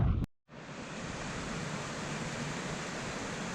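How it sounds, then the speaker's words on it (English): A small brook, or beck, runs in the Lake District countryside with a steady, even rushing wash heard close, after a brief cut near the start, with no voices. "There's a little brook, or beck"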